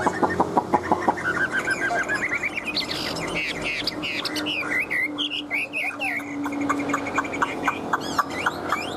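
A hwamei songbird sings a long run of varied, bright whistled phrases and rapid chirps, close and loud, with regular short clicking notes throughout.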